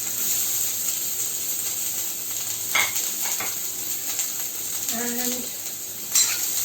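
Chopped onions sauté in a spoonful of hot oil for a shark curry, a steady soft sizzling hiss with a couple of light utensil clinks and stirring scrapes.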